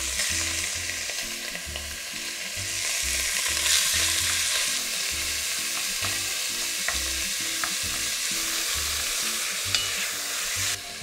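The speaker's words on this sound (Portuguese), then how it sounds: "Eu vou começar dourando a carne." Beef sizzles and fries loudly as it browns in a hot pot, a steady crackling hiss with occasional scraping stirs.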